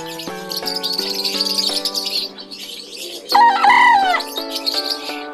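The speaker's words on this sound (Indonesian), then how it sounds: "Ada juga tadi ayam," A chicken at a livestock market in Kudus, Indonesia, calls loudly and repeatedly in stacked, tonal clucks, with a sharper, louder cry midway and no talking.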